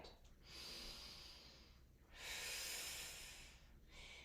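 Deep, slow breathing in a functional flow yoga class using resistance bands: three long, airy breaths, close and fairly quiet, rising and fading one after another.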